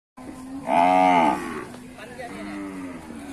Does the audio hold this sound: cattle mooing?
yes